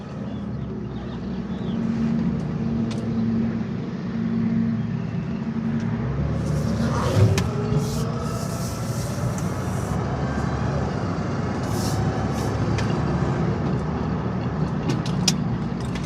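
A 1989 Lincoln Town Car Signature cruises on a test drive, its steady engine and road rumble heard from inside the cabin with a cracked window, continuous and even, with brief faint talk.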